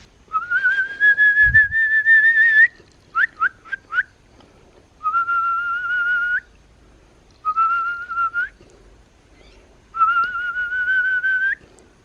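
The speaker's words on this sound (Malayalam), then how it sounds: "നമ്മൾ ചൂളം കുത്തിയപ്പോൾ നമ്മുടെ കുട്ടികൾ വന്നു" A person whistles repeatedly to call animals on a farm where fruit trees are being fertilized: long rising whistled notes alternate with a quick run of short chirps, loud and close, with no talk.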